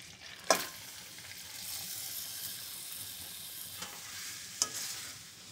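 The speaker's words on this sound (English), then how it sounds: "now I'm gonna start caramelizing the onions" Onions caramelizing in a pan sizzle softly and steadily, with two sharp clanks of stirring near the start and end and a few quieter scrapes between.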